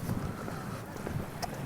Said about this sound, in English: but it's quite windy